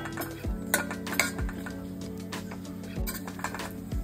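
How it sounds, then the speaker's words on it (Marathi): Chopped dry fruits being stirred and roasted in clarified ghee in a cooking pot, with a spoon scraping and clinking against the metal several times over a steady low sizzle, close and moderately loud, no talking. "आता एका टोपामध्ये साजूक तूप घेऊ, त्यात कापलेले ड्रायफ्रुट्स घालूया व ते चांगले लालसर होईपर्यंत आपण परतूया।"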